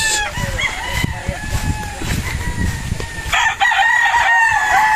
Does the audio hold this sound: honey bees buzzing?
no